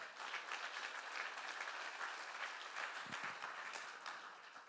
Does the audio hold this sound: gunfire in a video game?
no